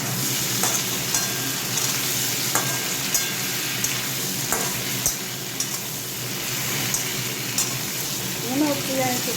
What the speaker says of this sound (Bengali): আলু পটলটা একটু ভেজে নিই।